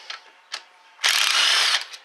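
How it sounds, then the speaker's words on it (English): An electric impact gun works on the transmission pump bolts of a Ford 4R70W: two short clicking bursts, then a sustained loud whirring rattle of about a second, close up and with no talk. "electric gun."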